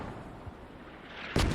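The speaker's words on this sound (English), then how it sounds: "I'm hearing LAVs rattling off, 30 mils rattling off, mortars rattling off." Video game battle with LAV, 30mm cannon and mortar fire, a low distant rumble of combat followed by a sudden loud close blast near the end.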